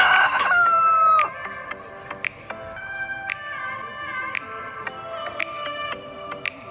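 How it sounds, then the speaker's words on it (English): Chickens cluck and squawk steadily with sharp calls throughout, opening with a loud rooster crow, close and busy like a full coop on a chicken farm. "This is the chicken farm."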